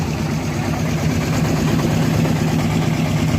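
A boat engine idles with a steady low drone, a constant, even rumble and slight vibration, close by, with no voices, at Bholaganj Sada Pathor, Sylhet.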